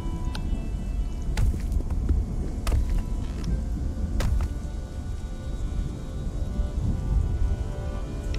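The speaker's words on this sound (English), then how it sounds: "And it's raining again." Steady rain pours down in the medieval siege survival game Siege Survival: Gloria Victis, a dense continuous hiss with a few sharper crackling bursts, filling the whole stretch with no voices over it.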